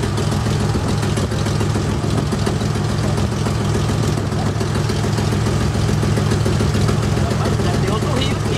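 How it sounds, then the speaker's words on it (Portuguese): A motor runs at a steady idle, a low rumbling engine drone with a constant vibrating throb, close and loud, with people talking over it now and then. "O motor tá ali."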